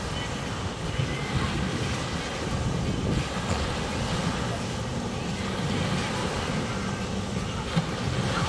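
Water in a wave swimming pool churns and sloshes in a continuous rumbling wash, mixed with wind buffeting the microphone and an open outdoor roar.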